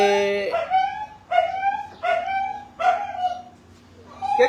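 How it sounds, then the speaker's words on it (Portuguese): A dog gives a run of whimpering, yelping barks, four or five close whines rising and falling in pitch and separated by short pauses. "O que é que se passa com o cão?"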